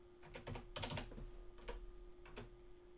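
Computer keyboard typing while setting a page width, a few close, crisp keystrokes in uneven clusters over a faint steady hum.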